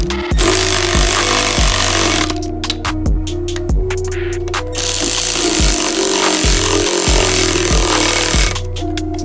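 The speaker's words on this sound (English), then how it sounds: "we're gonna go ahead and use our Milwaukee." A Milwaukee power tool runs bolts into a transmission during a B20B engine swap, sounding in a string of loud buzzing bursts with short breaks, close and continuous throughout, no voices.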